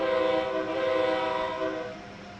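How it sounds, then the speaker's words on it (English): An Amtrak Acela train in Train Sim World 6 sounds its horn in one long, loud, steady blast while passing stations on the Metro North route. The blast fades slightly toward the end. "So we do have to honk going through the stations while on the Metro North route."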